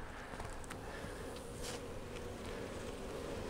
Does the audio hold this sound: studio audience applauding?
no